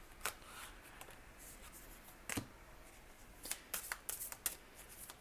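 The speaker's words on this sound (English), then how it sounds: "Just going to shuffle more cards." Tarot cards are shuffled by hand in quiet bursts of soft riffling and slapping, a few separate flicks early, then a quick cluster of papery snaps near the end, close and fairly faint with no talking.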